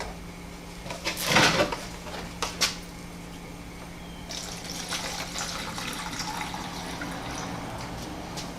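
Evapo-Rust rust-remover liquid is poured into a container to half-soak a rusty part, giving a brief burst of splashing followed by a longer, softer stream of trickling liquid, close by with no talking.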